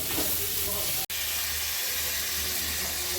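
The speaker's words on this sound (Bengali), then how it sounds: "মেটেগুলো দিয়ে দিচ্ছে, ভালো করে কষিয়ে নেবে নেড়ে চেড়ে" Liver pieces stir-fried in a pan with onion, ginger-garlic paste, salt, turmeric, cumin, coriander and garam masala give a loud, continuous, close sizzle with one brief dropout near the start.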